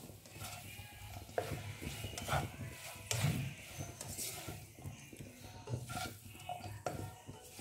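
Potato samosa filling being stirred in a pan, a spoon scraping and knocking against the metal in scattered soft strokes, faint and close, with a low background hum.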